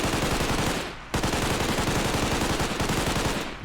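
Rapid automatic gunfire rattles in Garry's Mod as NPCs are shot, loud dense bursts with a short gap near the start before the firing resumes without voices.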